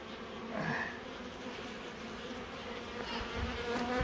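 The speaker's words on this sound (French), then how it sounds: "c'est un essaim que j'avais récupéré" Honey bees from a recovered swarm buzz steadily at their hive outdoors, a dense continuous drone with individual insects passing close by now and then.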